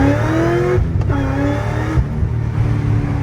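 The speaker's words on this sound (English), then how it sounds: "I don't know if you guys can hear the supercharger whine as good as I can, but just listen to that first to second again" A Corvette ZR1 pulls hard from first into second gear, its supercharger whine rising loud and close with a brief dip at the shift before climbing again.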